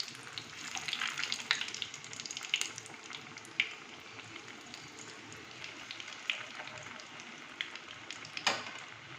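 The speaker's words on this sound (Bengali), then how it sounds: "এবার এইভাবে একটু ভাজা হবে" Chicken mini cutlets fry in a pan of oil over low gas, producing a continuous crackling sizzle with scattered sharper pops and the occasional clink of a utensil.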